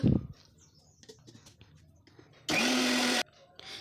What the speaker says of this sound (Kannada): ರೇಷನ್ ಅಕ್ಕಿಯನ್ನು ನಾನು ಅರ್ಧದಷ್ಟು ರುಬ್ಲಿಕ್ಕೆ ಹಾಕ್ಕೊಂಡು ರುಬ್ಕೋತಾ ಇದ್ದೀನಿ